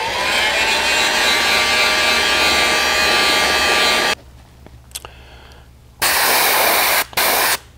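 Heat gun blows on freshly sprayed paint on a fishing lure, a loud steady rushing hiss that cuts off after four seconds, leaving quiet room tone with a click, then returns in two short blasts.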